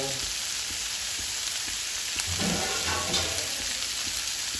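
Food cooking in a covered pan, giving a steady soft sizzle with faint crackles and a couple of light clinks, low and continuous.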